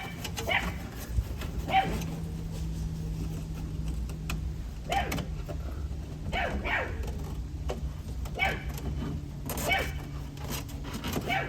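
A puppy barking in short scattered bursts outdoors, some yips near and some fainter, over steady background hum with occasional birds.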